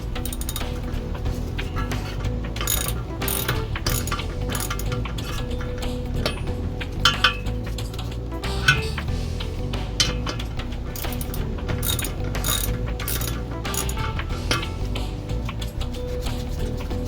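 Ratchet or breaker bar working loose the bolts on a C3 Corvette fan clutch, a steady run of close, rapid mechanical clicks with occasional sharper ticks over a continuous low hum.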